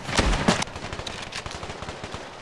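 Shotgun blasts in the mobile shooter Standoff 2, two loud booming shots up front followed by a rapid patter of lighter gunfire and clatter, no talk.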